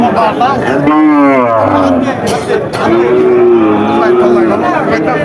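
Cattle at a rural livestock market in Barobazar, Jhenaidah, give several loud, close, drawn-out moos over a busy background of crowd murmur.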